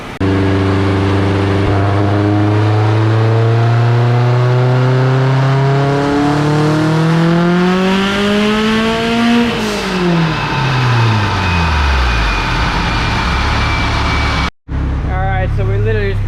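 A Subaru WRX with a hybrid block screams through a full rev sweep on a dyno, its engine pitch climbing steadily then dropping back, loud and close throughout, with a brief cut near the end.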